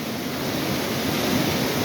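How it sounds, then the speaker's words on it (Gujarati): Dense, even roaring wash of a heavy downpour in Udhna, Surat, Gujarat, continuous and fairly loud with no voices. "અડધો કલાકથી પડે છે ધોધમાર."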